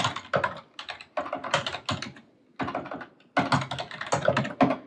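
Fast, close typing on a computer keyboard while writing a basic C hello program, dense bursts of crisp key clicks broken by short pauses, with no talking.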